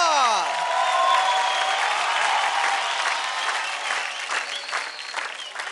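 Studio audience applause at a televised dance competition show, a steady broad wash of clapping that holds through the clip with a few fading tonal swoops at the start.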